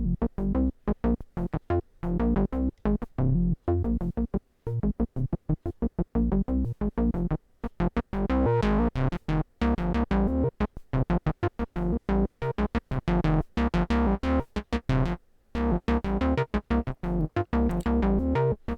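Synthesizer sequence stepping through pitches with a random gate length on each note, giving choppy stuttering bursts of tone, some clipped short and others held, separated by brief silences, close and dry with no voices.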